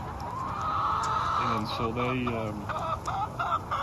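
Pasture-raised Isa Brown hens cluck in a flock, a busy scatter of short calls under a voice in a steady outdoor background.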